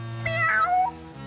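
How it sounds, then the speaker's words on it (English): A cartoon cat meows in a 1941 Woody Woodpecker short, one drawn-out, wavering meow rising and falling in pitch over a low musical background, clear and close with no talk. "I'm that hungry little kitty cat you just read about."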